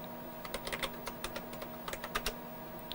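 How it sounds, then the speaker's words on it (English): Typing on a computer keyboard during work on a vintage Heathkit H8 storage setup, irregular bursts of close, crisp key clicks with short pauses, over a steady low hum. "If I can type."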